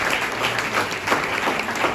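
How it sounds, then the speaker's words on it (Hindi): A classroom of exam-prep students gives hearty applause for three classmates, a brief burst of dense, even clapping close by. "तीन बच्चों के लिए जोरदार तालियां।"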